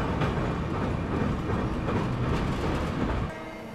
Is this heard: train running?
yes